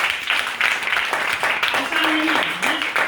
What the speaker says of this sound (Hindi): पहले तो मैडम के लिए एक बार तालियां बजाइए।